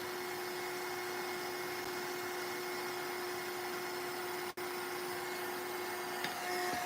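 A heat tool or dryer runs steadily at close range, drying gesso on a mixed-media art piece, with one brief dropout partway through and no talk.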